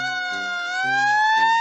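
A fire truck siren wails with a rising tone, loud and close, while a horn honks in short repeated blasts beneath it.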